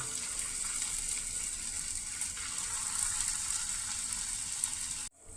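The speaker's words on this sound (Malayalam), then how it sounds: "തയ്യാറാക്കി വച്ചിരിക്കുന്ന കൂണ് എണ്ണയിൽ വറുത്തെടുക്കാം" Small mushroom balls deep-frying in hot oil over a medium flame, giving a steady, dense, close sizzle throughout before it cuts off abruptly near the end.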